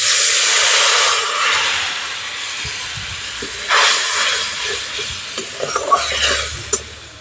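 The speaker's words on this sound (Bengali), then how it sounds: "জল দিয়ে মশলাটা একটু হালকা করে ভেজে নিতে হবে।" Kashmiri chilli powder and turmeric masala hiss and sizzle loudly in a pan after a little water is added. Steam rushes at first, then stirring scrapes and softer bubbling come through close up.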